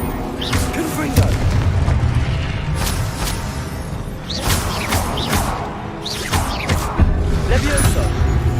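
A Confringo spell blasting in Hogwarts Legacy, repeated fiery booms and whooshes with crackling debris, loud and close amid ongoing combat clatter, with a voice shouting spell names.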